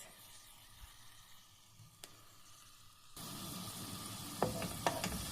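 Garlic hits hot oil in a pan for Alexandrian-style liver: a quiet steady sizzle that swells sharply about halfway through into louder crackling frying, with a few sharp spattering pops near the end.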